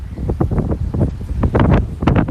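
Gusty wind buffets the microphone in uneven surges, a low rumbling roar rising and falling throughout.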